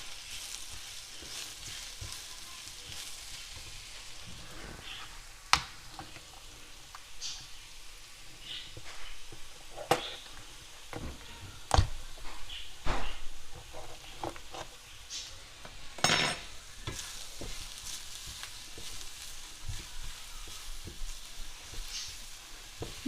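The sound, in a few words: sliced mushrooms being sautéed in a pan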